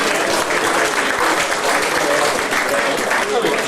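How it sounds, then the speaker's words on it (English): A dense, loud round of applause from guests at a league club dinner in Nambucca Heads, sustained many-handed clapping filling the room without a break for several seconds. "we're going to go round of applause to our great guest speakers and our guests tonight"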